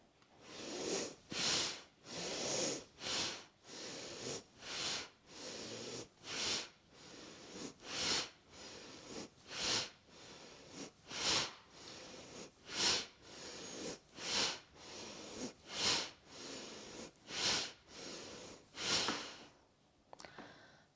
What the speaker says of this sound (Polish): Zrób bardzo silny wydech.